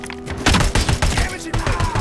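Rapid bursts of gunfire from the RoboCop: Rogue City video game, dense repeated shots and thuds over a droning background, loud and close, with a clipped synthetic voice speaking over the action.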